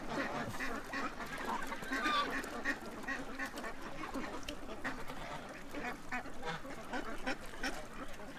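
A group of geese and ducks gathered close by, giving a busy run of overlapping quacks and honks over an outdoor background hum, moderately faint but constant.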